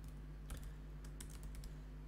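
Typing on a computer keyboard while entering an SQL query, a few soft, close clicks in short scattered bursts over a low steady hum.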